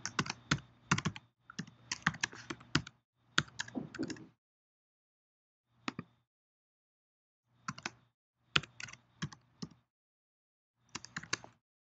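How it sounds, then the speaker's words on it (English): Fingers type a password on a computer keyboard in several quick bursts of crisp, close key clicks separated by pauses, with no voices. "next I'll enter in the password, and I'll need to do that twice just to confirm that I didn't put in a typo"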